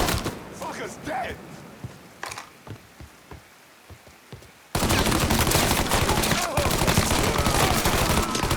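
Gunfire in the Mafia 3 video game: scattered, sharp shots over a quieter stretch, then a sudden dense, loud barrage of continuous rapid fire, with voices in the mix.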